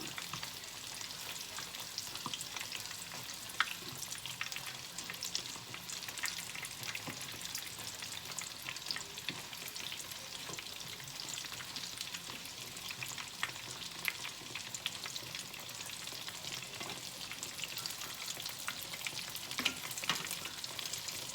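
Battered Swedish strömming fish frying in a pan, a steady, dense crackling sizzle with scattered louder pops running continuously and close up, no voices.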